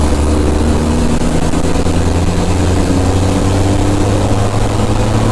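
A racing truck's engine drones steadily as it drives around a race track, a continuous loud low rumble with a slowly shifting pitch and no break in level.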